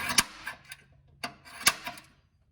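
A center punch marks a hole for a vented catch can on a Foxbody engine bay, several sharp metallic ticks and taps at irregular intervals, close and isolated.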